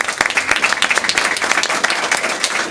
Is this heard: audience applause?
yes